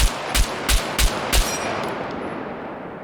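M1 rifle firing in the survival game Scum, five loud sharp shots in a quick, fairly even rhythm over about a second and a half, then a fading tail of echo and ambient hiss with no talk.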